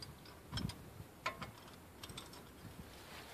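A hand ratchet clicks in short bursts while tightening a bolt on a 2005 Ford Explorer, close-up, several quick metallic clicks with small knocks and no speech.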